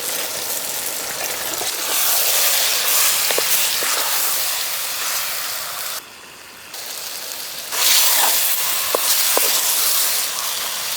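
Chicken pieces, about 1.5 kg, go into a hot pot already holding green chillies and chopped tomatoes, raising a loud steady sizzle and hiss that fills the clip, with one brief dip before the frying noise surges back.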